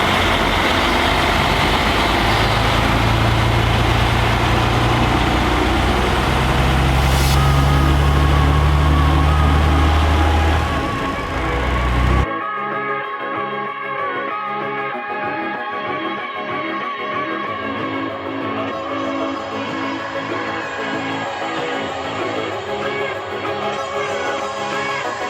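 Durango RV truck engine droning steadily while driving on the road, a loud low rumble at first that drops to a quieter, muffled cabin hum partway through, continuous throughout.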